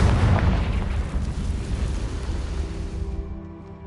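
A Confringo fire spell explodes in the Hogwarts Legacy video game, a loud, deep boom that rumbles out across several seconds and thins toward the end, with no talking.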